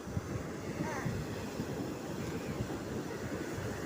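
Sea waves wash onto a beach in a steady, continuous rushing roar, with gusty wind noise buffeting the microphone throughout.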